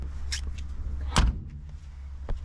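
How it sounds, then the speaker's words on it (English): Classic Mini car door slamming shut, a single solid, close thud with a short metallic ring, surrounded by faint handling clicks and quiet background. "I love the sound of a Mini's door closing"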